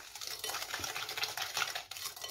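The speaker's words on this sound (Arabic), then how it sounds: "ناخذ بيضه نزيد عليها سنيده، صافي نخلطها مزيان بحال هكا." Egg and sugar whisked by hand in a bowl for a quick pan-cooked cake, a steady brisk scraping and tapping of the utensil against the bowl, close and continuous with no talking.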